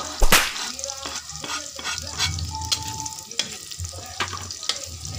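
Onion and ginger frying in a pan, a steady sizzle with repeated scraping and stirring strokes throughout, close and moderately loud with no talk.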